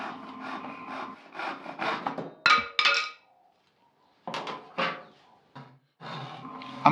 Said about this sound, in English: Here I'm sawing out the angles that I draw on each leg.